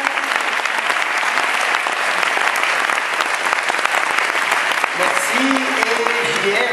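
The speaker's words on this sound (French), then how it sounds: "on peut applaudir le photographe" Loud, sustained applause from a large audience at the 2021 Cannes Film Festival, steady clapping throughout with a few voices rising near the end.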